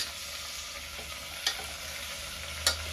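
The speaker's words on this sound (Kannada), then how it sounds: "ಎಣ್ಣೆ ಎಲ್ಲ ನೀಟಾಗಿ ಮಶ್ರೂಮ್ ರೀಚ್ ಆಗೋ ಥರ ಫ್ರೈ ಮಾಡ್ಕೊಳ್ಳೋಣ" Mushrooms with turmeric frying in oil, a steady soft sizzle throughout with two light scrapes of a stirring spoon against the pan.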